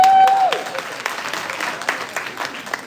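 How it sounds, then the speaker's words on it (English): Audience applause at a youth summit event, a steady wash of clapping filling the room at moderate loudness, with a brief tonal sound near the start. "Please, you can clap for us."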